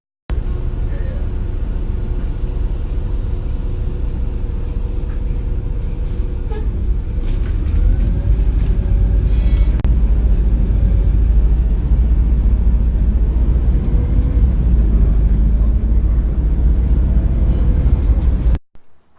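Steady engine rumble and road noise from inside a moving city bus, continuous and fairly loud for the whole stretch with faint rattles and shifts in pitch, no talking.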